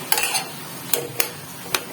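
A spoon stirs and mixes potato filling in a pan, a few quick scraping clicks spaced irregularly over a soft background, close and fairly quiet, with no talking.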